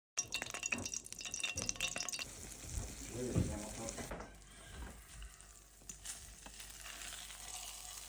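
Parasol mushroom frying in oil in a pan on a grill, a soft steady sizzle with some clatter early on, at moderate level with no talking.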